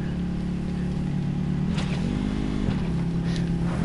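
A vehicle driving in the video game Call of Duty: Black Ops 4 Blackout, a steady loud engine hum with pitch shifts as it accelerates, plus a couple of brief bumps, with no talking.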